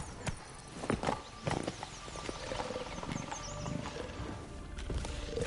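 Roach the horse gallops in Witcher 3, hooves clopping in quick, uneven beats on the ground, with a brief snort or whinny mixed in among soft ambient game sounds.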